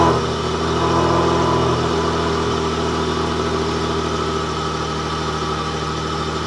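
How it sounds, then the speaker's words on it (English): Chrysler 300 car engine idling smoothly after a cold start, a steady close mechanical hum with a faint rumble that eases slightly in level over the seconds. "That was a really clean cold start"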